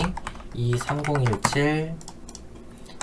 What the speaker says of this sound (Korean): 자, 표 타이핑 한번 해볼게요.